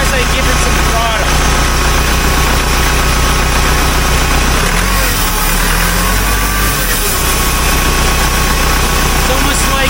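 A backhoe engine throttled up during annual servicing drones loud and steady with a whining, scratchy cavitation noise, briefly dipping midway before holding its rough, continuous roar.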